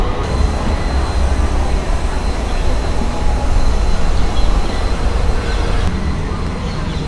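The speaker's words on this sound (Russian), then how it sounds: "Это трамвай Т1. Идет через весь центр" The T1 tram rolls through central Istanbul with a steady, close rumble of wheels on rails, a continuous rolling roar with faint wheel squeal on top.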